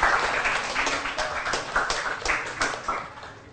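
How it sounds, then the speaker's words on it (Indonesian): Classroom applause for a student about to present, a crowd of hands clapping steadily and fairly close, with no voices over it. "Tepuk tangan dulu buat Mardiana"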